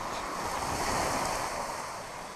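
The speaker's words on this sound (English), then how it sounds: "it's cooler here than where we're camping, but it is a warm wind" A warm wind blowing through the woods at a wild camp, a steady broad rushing roar with buffeting against the microphone, loud and continuous with no talk.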